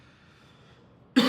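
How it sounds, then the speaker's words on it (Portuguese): A single short cough bursts out abruptly after a near-silent pause, close and fairly loud, from a speaker with a cough. "tô com a tosse aqui"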